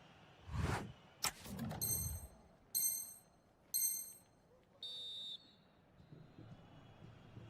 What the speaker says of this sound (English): the referee's whistle brings the first 45 minutes to a close